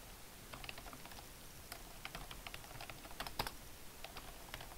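Someone types a password on a computer keyboard while editing a Linux alias file, a quick run of light, crisp key taps with short pauses, close and fairly quiet.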